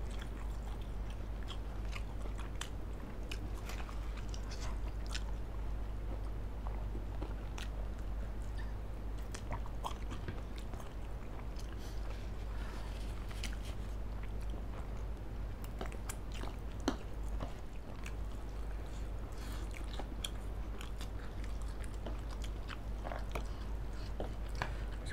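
Close-up chewing and slurping while eating spicy grilled lime chicken Mie Sedaap instant noodles, steady soft crunching and wet bites throughout, low and intimate, with no talking.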